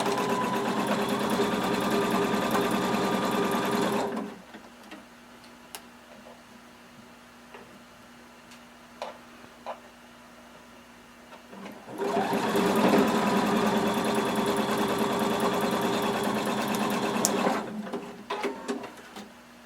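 A sewing machine stitches a garment's front-to-back crotch seam at a 3/8-inch seam allowance, running in two steady bursts of close whirring with a quiet pause between them and no voices.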